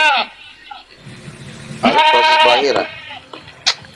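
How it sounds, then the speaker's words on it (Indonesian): A loose goat bleats loudly and close by, a few wavering cries with one long central call, while a person talks nearby. "Kambing gue lepas, sabar ya, kambing gue lepas."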